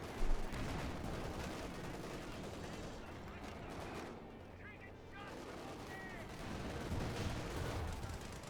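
Rifle fire from German Grenadier infantry in a Company of Heroes 2 match, crackling bursts mixed with heavier battle booms and a busy, dense war soundscape, fairly faint, with a commentator talking throughout.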